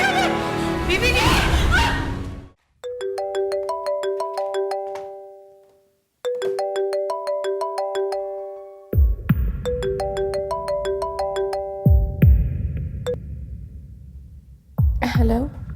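A mobile phone rings with a melodic electronic ringtone, its short chiming phrase repeating several times in an indoor drama scene, broken by pauses and some background noise.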